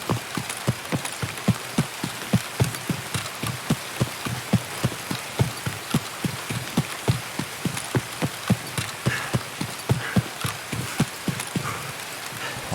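Steady rain falls in the video game Escape from Tarkov on the Customs map at night, a soft constant hiss broken by evenly spaced thudding steps that continue from start to finish.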